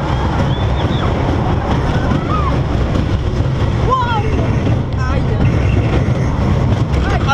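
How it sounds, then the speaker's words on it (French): Roller coaster train rumbling loudly along its track at Le Pal amusement park, a steady dense roar with wind buffeting and faint squealing, creaking screeches rising and falling throughout, with riders' voices mixed in. "C'est le train, il fait des bruits bizarres."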